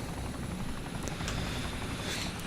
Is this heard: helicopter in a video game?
yes